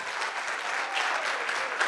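A church congregation applauds during a service, a steady wash of many hands clapping at moderate loudness throughout, with no voices standing out.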